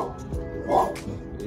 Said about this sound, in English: Dad's got a dog over there too.